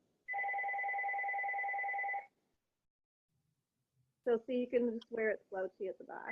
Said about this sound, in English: It will stop ringing eventually.